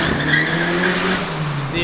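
Tires squeal and skid on an oily track in a sustained screech over a Porsche engine as the driver loses control, loud and close, with a brief rise near the end.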